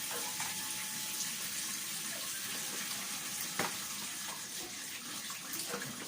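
Tap water runs steadily from a kitchen faucet while a whole chicken is washed, a continuous close hiss of flowing water with a few faint clinks and no voices.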